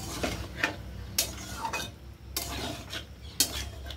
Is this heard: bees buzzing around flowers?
no